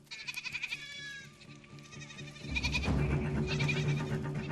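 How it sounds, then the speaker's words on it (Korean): Goats bleat on a Philippine coconut farm where workers harvest coconuts, with several wavering cries close by, followed by louder rustling and outdoor noise. "염소들은 평화롭기만 하다."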